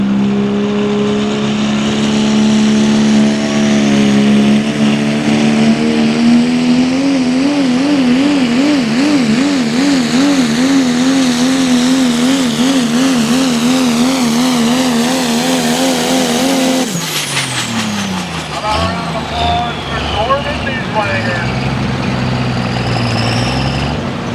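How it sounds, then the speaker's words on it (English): Pro Stock Diesel trucks, among them a 1997 Ford, race down a drag strip at a diesel truck shootout. Their engines roar loudly and climb in pitch with a wavering drone, then the sound drops off abruptly as another engine sweeps through close by. "Again, this class, Pro Stock Diesel truck, brought to you by East Coast Diesel, by Tommy Hassler, Hassler Diesel,"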